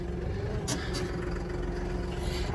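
A farm tractor with a loader idles steadily nearby in freezing weather, giving a constant low rumble with two brief higher hisses partway through and no talk.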